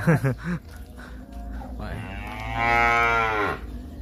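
Cattle on a cattle farm low a few times, with short calls early on and one long drawn-out moo near the end, while people talk nearby.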